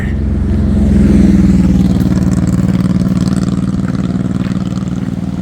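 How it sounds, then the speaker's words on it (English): Continuous engine rumble of car traffic passing along Skyline Drive in a national park, a steady mid-low drone that swells slightly and holds, fairly close and alone. "Yeah, there's plenty of traffic."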